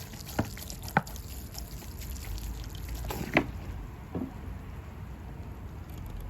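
Water poured over freshly repotted white pine bonsai, a quiet trickle and patter into soil with a few distinct splashes and drips, close and faint.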